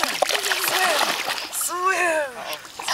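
A dog splashes in water while trying to swim, with a few short splashes and sloshing close by, over faint background voices.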